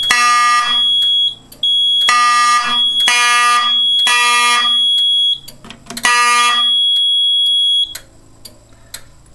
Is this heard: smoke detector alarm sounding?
yes